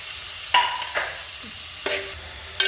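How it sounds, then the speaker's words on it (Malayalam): Chicken curry cooking with shallots dropped into a hot pan: a few bursts of sizzling and stirring scrapes, each flaring up then settling into a steady frying hiss. "ഇനി ഇതിലോട്ട് ഞാൻ ചെറിയ ഉള്ളിയാണ് ഇടുന്നത്"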